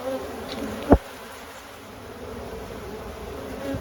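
Honeybees buzz steadily around an open hive with no brood, a soft continuous drone with one sharp knock near the start.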